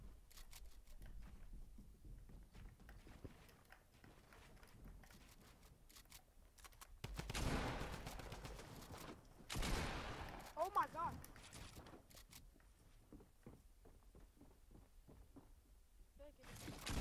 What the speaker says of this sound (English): Now you're just abusing the drum gun.